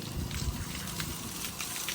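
Water splashes and trickles continuously in a close, wet, sloshing wash as a person is drenched during Vishwakarma Puja vehicle washing, with no voices.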